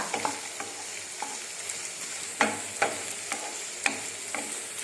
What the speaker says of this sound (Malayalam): വത്തൽമുളകും കറിവേപ്പിലയും കൂടി ഇട്ട് മൂപ്പിക്കുകയാണ്